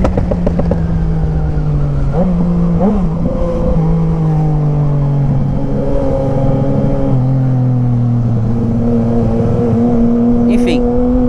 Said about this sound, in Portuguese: Viu minha moto vindo, foi acelerar. MT-03 aí na frente.